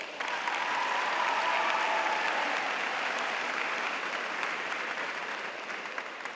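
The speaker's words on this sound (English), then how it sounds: "Students and friends, give your teachers one last round of applause" A graduation audience at Innovation Central and Grand Rapids Montessori claps for the teachers, a steady dense wash of applause filling the hall from start to finish and easing only slightly near the end.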